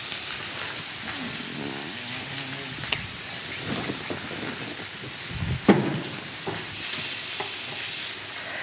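Faux filet steak sizzling in a hot pan while being basted with butter, a steady close crackling hiss with occasional spoon scrapes and sputters, faint bits of talk underneath.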